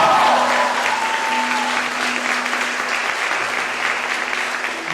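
Steady crowd applause at a church service, dense and sustained, filling the whole stretch with a constant wash of clapping and a faint tonal hum beneath.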